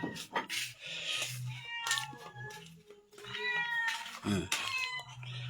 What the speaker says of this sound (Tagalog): Meow meow meow, miming miming.